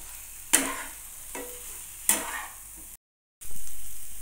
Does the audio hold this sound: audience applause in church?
no